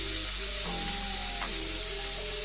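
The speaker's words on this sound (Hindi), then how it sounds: "जब तक ये प्याज हल्का भून जाए तो हल्का फ्राई करना पड़ेगा" Onions sizzling steadily in a hot pan, a constant loud frying hiss with faint tonal clinks from the cookware and no talking.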